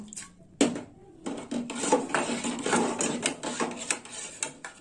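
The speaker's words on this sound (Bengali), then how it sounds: "ডালটা এইভাবে নেড়ে চেড়ে নেব, আর একটু জল দেব" Mung dal grains being stirred and rubbed in water by hand while washing, giving soft scraping, rasping swishes in an irregular rhythm, close and quiet with no talking.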